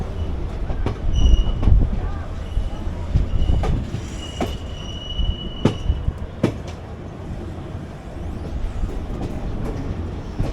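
A passenger express train rumbles along steadily with rhythmic wheel clatter, sharp metallic clanks and a thin squeal, heard from close by on board.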